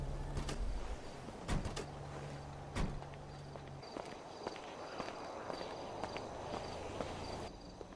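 Footsteps walk toward a door, a series of distinct, moderately close steps at an even pace over a low background hum, with a few sharper knocks near the start.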